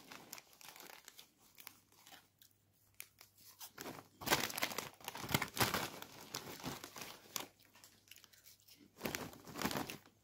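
A Lolo Puffs cheese-flavoured snack bag is crinkled and torn open up close, with bursts of plastic crackling that grow louder and busier midway and again near the end.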